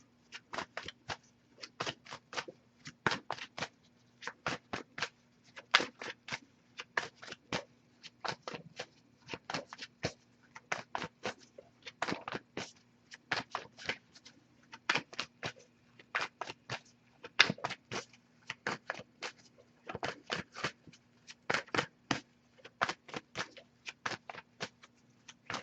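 A Wisdom of the Oracle card deck is shuffled steadily and close up, with quick riffling bursts repeating in an even rhythm over a faint steady hum, no voices.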